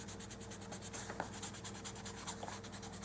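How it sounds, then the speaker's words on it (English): A pencil eraser rubs back and forth on paper in quick, even, close strokes, a soft repeated scrubbing with no talk. "I need to erase all this"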